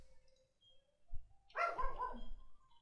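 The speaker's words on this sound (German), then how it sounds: "oh, Hund, halt's Maul!" A dog barks a few times in a burst near the end, fairly close and loud, after a quieter stretch with faint low thumps and a soft tone.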